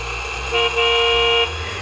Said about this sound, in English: stop honking at me